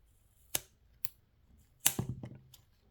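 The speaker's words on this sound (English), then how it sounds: "You can hear from the scissoring action there just how strong this stuff is." Scissors snip several times with sharp, crisp clicks, a few isolated cuts followed by a rougher, dragging cut through tough silicone.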